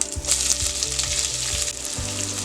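Onion, mustard seeds and cumin fry in hot oil with a close, continuous crackling sizzle and faint stirring, no voices.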